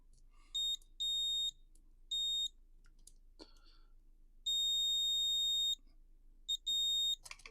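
A multimeter set to continuity beeps while probing the contacts of a Wii Remote under repair, giving several short tones and one longer sustained tone separated by quiet gaps, close and clear.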